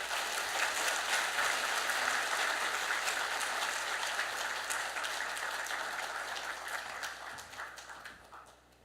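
Church congregation at a Sunday service applauding to welcome a visiting pastor, a sustained wash of many hands clapping in a large room, gradually thinning and fading toward the end.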